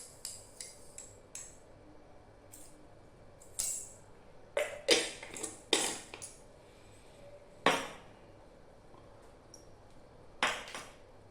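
Mustard seeds crackle in about three spoons of hot oil in a pan (chatti) while a fish roast is started; sharp, irregular pops burst out singly and in quick clusters, some loud and close, with no talking.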